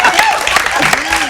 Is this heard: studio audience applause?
yes